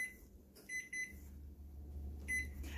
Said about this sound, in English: now we're going to set the timer for 15 minutes